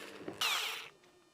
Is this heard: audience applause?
no